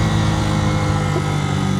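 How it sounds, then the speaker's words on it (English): A Suzuki TU250x motorcycle engine drones loud and close, a steady low rumble with strong harmonic bands that shift slightly as it changes gear. "Some crispy downshifts on the TU."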